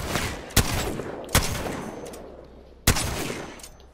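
Three separate heavy gunshots from a high-damage gun in Apex Legends, loud and close, spaced irregularly with decaying tails between them.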